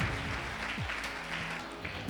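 A church congregation claps loudly for a couple of seconds, a dense, continuous wash of applause with a few faint tonal sounds underneath.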